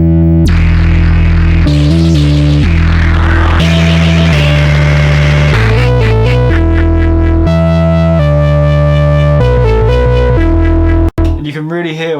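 Free software synthesizer with a pendulum oscillator and low pass gate plays loud, buzzing distorted tones, the filter opening and closing across sustained notes and a stepped sequence, ending in a brief glitchy burst.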